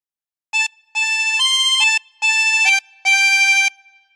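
A 24-hole tremolo harmonica plays a phrase of Jesus Loves Me: about six bright, reedy, wavering notes in short, evenly paced groups, close and clear with no voice over them.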